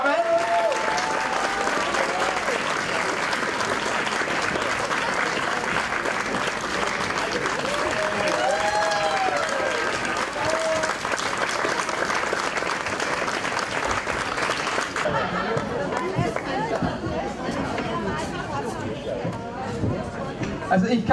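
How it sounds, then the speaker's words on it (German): Sustained audience applause for children from a sports club's Zumba group, a dense, loud wash of clapping with crowd murmur and occasional voices, then thinning and fading toward the end. "Applaus für die Zumba-Kinder, Damen."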